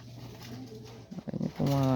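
Pigeons coo at a loft in Uminggan, Pangasinan, a soft, low, steady murmur close by, and a person's voice breaks in at the end.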